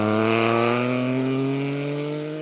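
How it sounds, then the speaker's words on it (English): A 2018 Triumph Speed Triple RS motorcycle gives a loud, raucous, steady exhaust drone at constant revs, held close and easing slightly toward the end. "a raucous exhaust note that really, really gets you buzzing. It's such a lovely noise."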